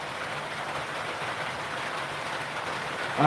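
Rain falls steadily, making a continuous soft hiss with no breaks; a brief louder noise rises at the very end.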